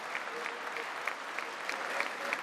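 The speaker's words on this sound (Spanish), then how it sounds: "la Cámara dedicó este prolongado aplauso" Sustained applause fills the chamber of the US Congress for the Ukrainian ambassador, a dense, steady clapping from a large crowd with no pauses throughout.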